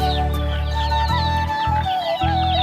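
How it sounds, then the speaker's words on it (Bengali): Desi chickens in a poultry shed cluck and squawk busily, several birds calling over each other close by with overlapping, lively calls and no talking. "এই পাশে আছে এই যে দেশি মুরগি, এগুলো হচ্ছে খুব চঞ্চল এগুলো"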